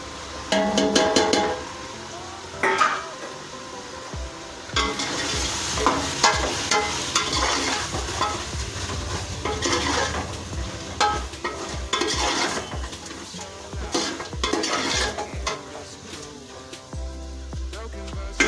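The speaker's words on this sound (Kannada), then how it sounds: "ಇವಾಗ ಗರಂ ಮಸಾಲ ಧನಿಯಾ ಪುಡಿ ಮತ್ತು ಮೆಂತ್ಯ ಪುಡಿ ಹಾಕ್ತಾಯಿದ್ದೀನಿ" Garam masala, coriander powder and fenugreek powder are stirred into a home-style chicken biryani in a pot, with close scraping and stirring over a sizzling fry, sounding in uneven bursts throughout.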